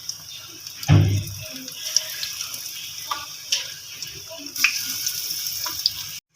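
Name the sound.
onion and chicken pakoras deep frying in oil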